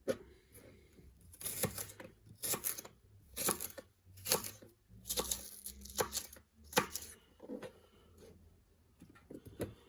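A knife slices through pak choy on a board for a Taiwanese basil chicken stir-fry, giving a run of close, crisp cutting strokes in irregular bursts with short pauses between them.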